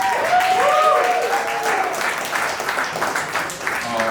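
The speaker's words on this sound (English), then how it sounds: "Yes, round of applause for that." An audience at a conversation event with filmmaker Ryan Coogler breaks into a round of applause, sustained clapping from a crowd with a faint tonal sound and brief voices underneath.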